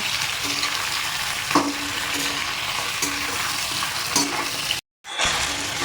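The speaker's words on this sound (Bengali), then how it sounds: "খুব ভালো করে নাড়িয়ে চাড়িয়ে চিকেনের জলটা একদম শুকিয়ে নেব" Washed chicken stir-frying in a pan to dry off its water, a dense close sizzle with periodic stirring scrapes and a brief cut to silence near the end, no voices.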